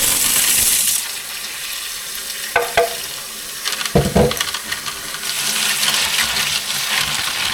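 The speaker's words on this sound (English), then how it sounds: "we take a bowl and we start running water into it and pour the pistachios in" Tap water pours into a bowl holding pistachio shells, giving a loud hissing rush that stops, then a few clattering knocks of the shells, then the rush of water starts again.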